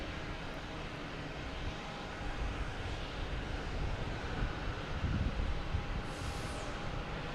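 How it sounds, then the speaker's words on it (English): A British Airways airliner arriving from Heathrow descends toward Boston Logan Airport, heard as a steady, broad jet roar that swells slightly midway and carries over constant outdoor noise. "British Airways coming in from Heathrow"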